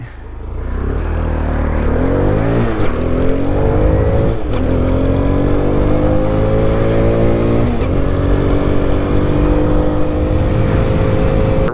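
A Grom clone mini motorcycle engine revs hard while being ridden, its loud, buzzy drone rising in pitch through several gear changes with brief dips between them.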